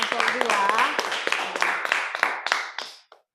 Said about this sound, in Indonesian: mari kita beri tepuk tangan kepada kelompok